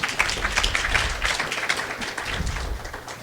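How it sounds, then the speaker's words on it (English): An audience at a conference session on parent and youth advocacy breaks into dense, even applause that carries on throughout and tapers slightly at the close. "you could give them an applause."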